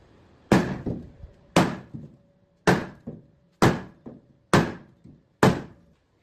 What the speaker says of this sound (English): don't beat right on the aluminum